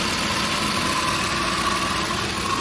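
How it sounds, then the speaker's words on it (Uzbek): A Porter LPG refrigerated truck engine idles close by, giving a steady, even mechanical hum and rumble with no change in pace and no voices. "motorning ishini ham ko'rsatib qo'yadi"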